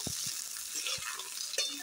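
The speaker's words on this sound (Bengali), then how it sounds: "শিম আর বেগুন খুব ভালোভাবে ভেজে নেব।" Flat beans and eggplant frying in hot oil in a pan, a steady hissing sizzle with a few soft stirring knocks, close by with no talking.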